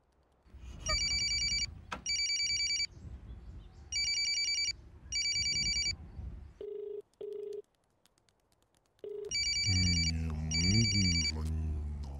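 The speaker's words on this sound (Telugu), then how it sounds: "ఫోన్ లిఫ్ట్ చేయడానికి ఎంతసేపు పడుతుంది నీకు?" A telephone rings unanswered in a Telugu film scene, repeated bright electronic bursts in pairs separated by pauses, then a few lower tones, with music or background sound swelling at the end.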